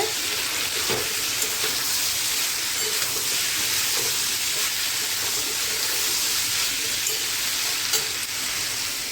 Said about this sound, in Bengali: মশলা দিয়ে কষাচ্ছি জল এসে গেছে এদিকে এই তেল তরকারিটা কষানো হচ্ছে